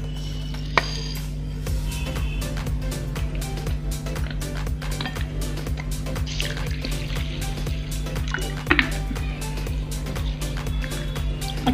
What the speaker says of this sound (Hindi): दाल और चावल को मिक्स करेंगे और इसे पानी में अच्छे से 2-3 बार वॉश